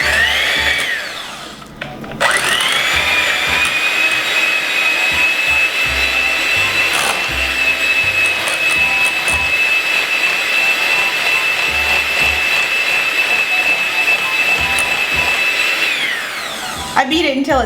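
An electric hand mixer whips oil into a homemade hair butter. A loud, steady motor whine starts after a brief pause, holds at an even pitch for about fourteen seconds, then cuts off.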